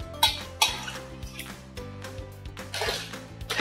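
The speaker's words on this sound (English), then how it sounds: "Let's go ahead and mix this in." Watermelon salad ingredients are tossed in a bowl, with a few clinks of a utensil against the dish and soft, wet rustling and scraping, quiet and close, with faint background tones.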